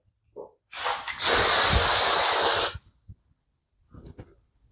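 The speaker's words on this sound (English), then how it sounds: "here comes the second spray" A long hissing spray bursts close by for about two seconds, preceded by a short puff, with faint rustling before and after.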